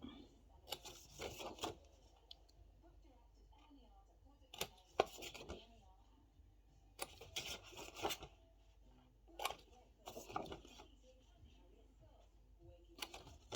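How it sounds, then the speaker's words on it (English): Small scissors snip in short bursts of quick, crisp cuts, with brief pauses between the clusters of snips. Faint rustling sounds fill the gaps. "just snip those tiny bits out"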